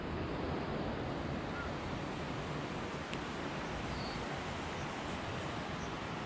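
A river flows beside a cottage in Kasol, a steady broadband rush of water that runs unbroken and fairly loud for the whole stretch, with no voices over it.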